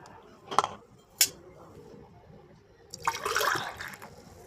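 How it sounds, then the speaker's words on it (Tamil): Mudavattukal soup finished with a little coconut and pepper powder is poured in a kitchen: two sharp clinks of a vessel come first, then a short, bright splashing pour near the end. "சூப்பை ஊற்றி குடிக்க வேண்டியதுதான்."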